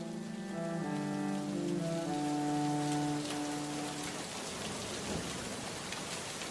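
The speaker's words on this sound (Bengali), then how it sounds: "বাইরে যা বৃষ্টি হচ্ছে" Heavy rain pours outside as a cartoon sound effect, a dense steady hiss of falling water with sustained musical tones at the start that fade into the downpour.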